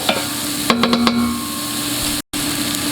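Vegetables for a vegetarian chili sizzle steadily in a pan as they soften, with a few sharp scraping stirs near the start and one brief dropout partway through.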